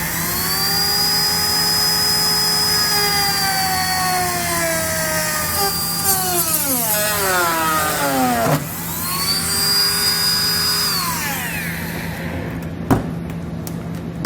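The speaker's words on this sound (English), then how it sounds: "I'm going to use a rotary tool just so I can make a quick clean cut" A rotary tool cuts through plastic bumper trim on a 2019 Jeep Compass for a Curt trailer hitch receiver, a loud, close, steady high-pitched whine whose pitch dips and recovers as the bit bites into the plastic.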